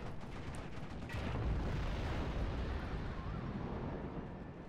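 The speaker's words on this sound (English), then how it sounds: "Now, the first shot does come through here from the Honey." A Honey light tank fires its gun in a Steel Division battle, a dull explosive boom rising about a second in, then a rumbling roar that lingers and slowly fades under a dense wash of battlefield noise.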